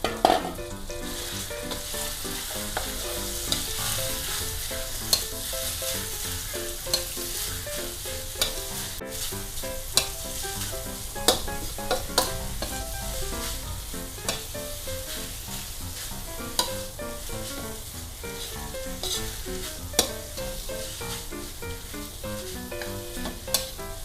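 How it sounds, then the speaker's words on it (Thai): Minced pork larb with fried garlic stir-fries in a pan, a loud, continuous sizzle and crackle throughout, punctuated by regular sharp clicks of a spatula striking the pan. "จะเอาลาบที่เราคลุกเมื่อกี้ลงไปคั่วนะคะ"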